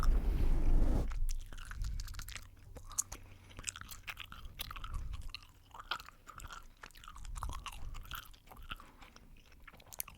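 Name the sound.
loud gum chewing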